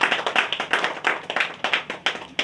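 An audience at an appointment-letter ceremony claps to honour the new appointee, producing crisp, moderately loud clapping in uneven bursts that rise and fall repeatedly.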